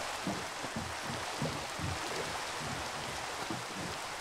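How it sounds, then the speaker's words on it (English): Steady broadband rain hiss from the Minecraft video game, falling continuously at a moderate level with faint low rumbling patter underneath and no talk. "the rain stops"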